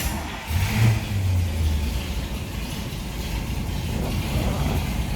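A 1964 Buick Riviera's 425 V8 engine with dual quad carburetors fires up and settles into a loud, steady, throaty rumble that carries on without a break.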